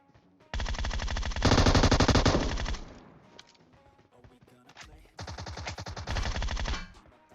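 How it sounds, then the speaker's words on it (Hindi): Tommy gun gunfire from the mobile battle-royale game PUBG Mobile: two long sustained bursts of rapid automatic fire, loud and dense, separated by a quieter gap with scattered softer shots. "वो बंदा अभी तक टोमी गन चला रहा है"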